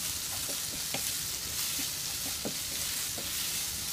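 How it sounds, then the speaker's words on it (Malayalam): Three medium chopped onions sauté with salt in a pan, giving a soft, steady sizzle with a few light stirring scrapes scattered through, close and fairly quiet with no talking. "കുറച്ച് ഉപ്പ് കൂടെ ചേർത്ത് നമുക്കിതിനെ നന്നായി വഴറ്റിയെടുക്കണം."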